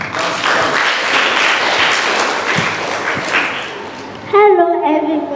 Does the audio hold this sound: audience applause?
yes